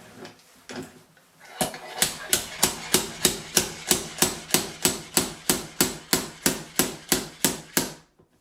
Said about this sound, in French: On va taper plus fort.